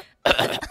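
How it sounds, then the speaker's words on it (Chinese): A single short, harsh cough close to the microphone, heard alone after a brief silence. "听到咳嗽声没有？"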